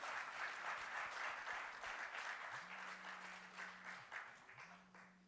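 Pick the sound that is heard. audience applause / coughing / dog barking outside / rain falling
audience applause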